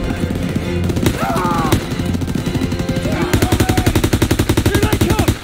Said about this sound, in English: Here they come! Open fire! Someone get on the MG!